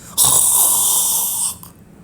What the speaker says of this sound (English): Vimes snored loudly.